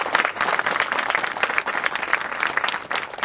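An audience at a valedictory ceremony for a graduating class applauds, a dense, steady patter of many hands clapping that carries on throughout.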